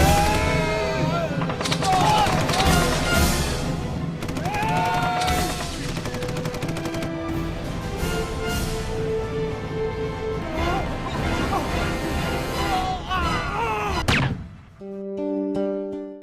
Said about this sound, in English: depicting regular gun battles that security forces encountered during their combing operations against Maoists in remote areas of Odisha